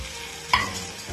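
Fried cauliflower and potato are tipped into a pan of tangra fish curry, giving a single soft sizzling stir with a brief clatter in a quiet kitchen.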